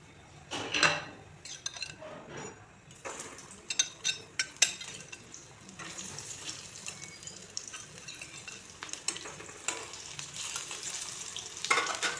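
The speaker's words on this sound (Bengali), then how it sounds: "অল্প সরিষার তেল দিয়ে আমি 3টি কাঁকরোলের পুর ভেজে নেব" Stuffed pointed gourds fry in a little mustard oil over a low flame, giving a soft continuous sizzle broken by clinks of a utensil against the pan and occasional louder crackles, close and quiet with no talking.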